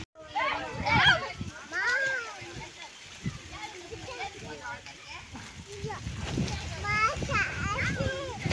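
A child swims and splashes in water, with irregular splashes and sloshing through the clip, mixed with children's voices and talk nearby.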